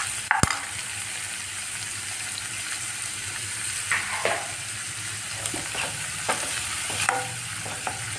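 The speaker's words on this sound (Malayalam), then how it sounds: "ഇനി അതിലേക്ക് ഞാൻ കറിവേപ്പില ഇട്ട് കൊടുക്കുകയാണ്" Curry leaves frying in hot oil while tempering for a Kerala beef and potato dish, a dense steady sizzle close up with a few scattered scrapes and clinks.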